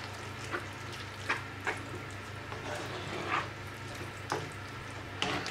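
Jarred sauce being mixed into a sizzling pan for lasagne, a steady frying hiss with intermittent scraping strokes of a utensil, close and continuous, no voices.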